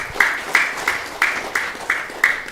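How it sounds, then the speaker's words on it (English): Rhythmic clapping from a congregation welcoming a member at a religious gathering, steady hand claps roughly every third of a second, fairly close and lively, with no talking over it. "Please give her a big round of applause."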